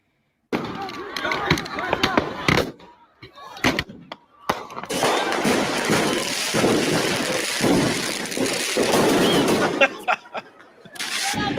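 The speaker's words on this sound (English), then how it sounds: "let's gather around and enjoy some fireworks on 4th of July" Fireworks going off on the 4th of July, a rapid chaotic barrage of loud cracks, bangs and crackling bursts, first in scattered sharp pops, then a dense roaring stretch of overlapping explosions, close by and very loud.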